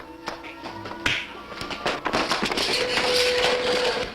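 Pounding on a spaceship door in a 1959 science fiction film, heard as a series of sharp, loud bangs and knocks, followed by a rising jumble of clatter and a faint tone, with no speech.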